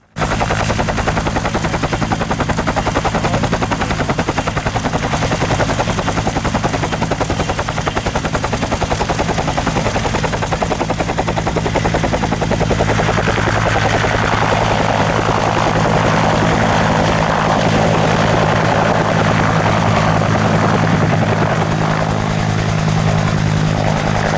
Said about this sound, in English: it was time for the helicopter to once again take off